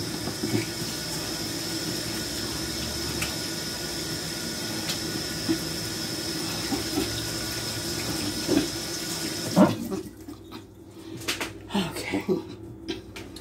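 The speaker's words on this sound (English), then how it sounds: "Wash my hands" Running tap water pours steadily into a kitchen sink while hands are washed, a loud, close, continuous splash that stops near the end and leaves faint handling noises.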